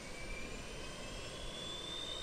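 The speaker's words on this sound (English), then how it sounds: "So the APU, it's a little small jet engine in the back of the plane." The APU, a small jet engine at the back of an airliner in Microsoft Flight Simulator 2020, gives a steady, faint whining hum with a thin high tone and no change across the short stretch.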